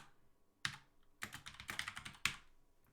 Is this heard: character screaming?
no